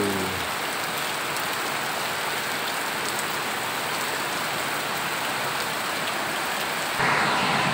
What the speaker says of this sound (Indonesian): sempat juga hujan di luar lebat ah